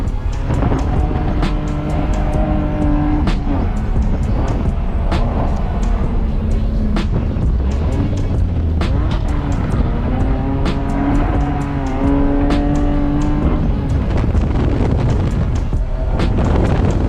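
BMW E46 drifting at the Willow Springs road course, its engine droning loud and steady with rising and falling revs, tire squeal and heavy wind buffeting throughout.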